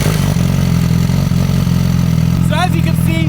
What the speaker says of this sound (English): I am obsessed with the sound of this motorcycle